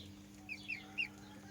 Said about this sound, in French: Alors il y a un coq là-bas.